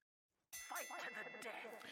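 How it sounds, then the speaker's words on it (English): A bell rings out to open a round at a boxing-style finals event, a bright metallic ding with a long ringing tail, loud and close, heard over crowd noise and commentary voices. "when you hear the bell, you may begin"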